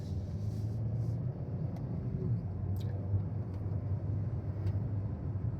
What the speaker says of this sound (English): I'm gonna just put my wheels right on the rumble strips in the middle.